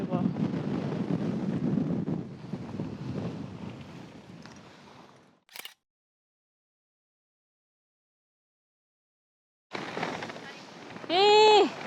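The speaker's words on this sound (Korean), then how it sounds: "바람 미쳤어." Strong, gusty wind at the Tottori sand dunes on a rainy day buffets the microphone with loud rumbling roar for several seconds, then drops to near silence before a short burst of noise returns.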